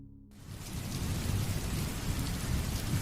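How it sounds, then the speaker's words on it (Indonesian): Heavy rain pours down at night as a steady hiss with a low rumbling underneath, starting abruptly after a brief silence and then holding even and close. "Malam itu, hujan turun lagi."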